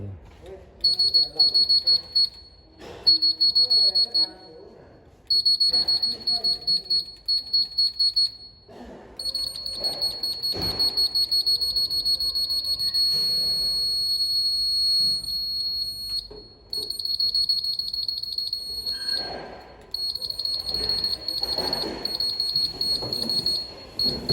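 Automatic tire inflator cabinet with a replaced speaker, under repair for an Error 5 fault that cuts out, gives repeated high electronic beeps in steady bursts with brief gaps, over clattering and someone talking.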